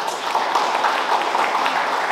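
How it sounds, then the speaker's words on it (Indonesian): Audience applause at a formal gathering welcoming an infantry colonel, a dense steady wash of many hands clapping that holds evenly throughout, moderately loud with a faint voice underneath. "tepuk tangan beliau"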